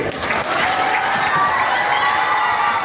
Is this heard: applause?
yes